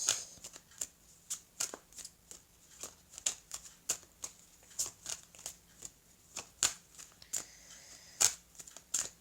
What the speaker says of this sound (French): pourquoi pas changer de façon de tirer les cartes